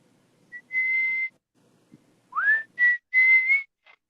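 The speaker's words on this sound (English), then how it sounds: "I'm sure most people recognize that whistle at the beginning." A clear, pure whistled melody: a long held note, then a rising slide and several short and sustained tones, alone against silence.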